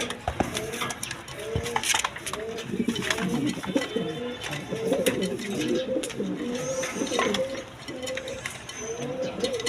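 A pair of German Beauty down-shape pigeons coo repeatedly in soft, rhythmic phrases, close by, with occasional light clicks and rustles around them.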